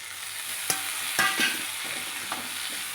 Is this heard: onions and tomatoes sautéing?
yes